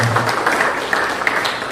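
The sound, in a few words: classroom applause for classmates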